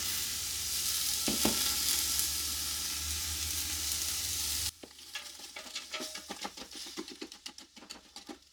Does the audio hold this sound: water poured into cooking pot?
no